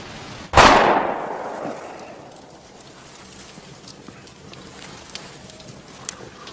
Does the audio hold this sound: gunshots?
yes